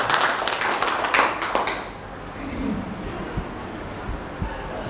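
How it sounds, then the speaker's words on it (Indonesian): Audience at a school teacher presentation in Banjarmasin claps for a speaker: a brief scattered burst of handclaps for about two seconds, then fading into quiet room tone. "Kita beri tepuk tangan untuk Ibu Izatil."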